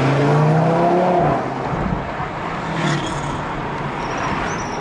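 An Audi TT RS engine runs loud and close on a race track with a broad, steady roar that eases slightly and then holds, and no voices are heard.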